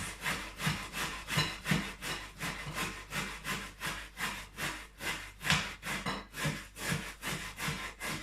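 Hand grating of carrots for a vegan carrot cake, close and steady, with rhythmic up-and-down rasping strokes repeating about twice a second without a break.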